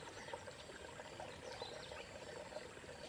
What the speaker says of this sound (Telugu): గంగమ్మ తల్లి శబ్దం చేసుకుంటూ పారుతూ ఉంది